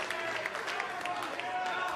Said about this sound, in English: you hear the appreciation from the crowd here at center stage